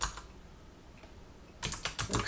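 Computer keyboard typing: a short quiet pause, then a quick burst of close, crisp keystrokes clattering in bunches.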